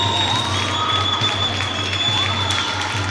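Crowd applause for the girls' team of Borbolla at a Galician under-12 women's championship semifinal, a steady wash of clapping that holds for a few seconds alongside a continuous tonal hum.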